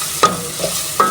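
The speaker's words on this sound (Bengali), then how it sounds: "তো পেঁয়াজটা ভাজা হয়ে যাক" Onions frying in a pan with a steady close sizzle, broken by two or three brief scrapes of a spatula stirring them.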